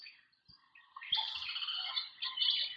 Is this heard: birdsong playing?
yes